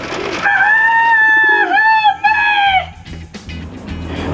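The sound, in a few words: pigeons in abandoned town of Fayette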